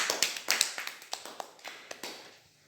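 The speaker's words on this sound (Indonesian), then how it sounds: "Mari kita beri aplaus untuk adik Ria" Classroom audience applauding a student named Ria at a micro-teaching session, a short burst of scattered, uneven claps that thins out and fades over a few seconds.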